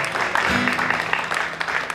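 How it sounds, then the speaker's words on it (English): A church audience at a Christmas gathering claps together in a steady, dense wash of applause, with faint voices and music underneath. "Participating and clapping."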